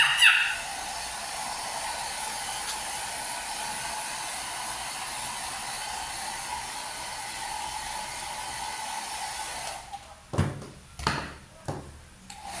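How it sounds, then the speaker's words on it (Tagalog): A hair dryer blows steadily in a salon, a continuous airy whoosh running for about ten seconds before cutting off, followed by a few brief handling knocks and thumps. "Kaya mas gusto nila naka-dryer."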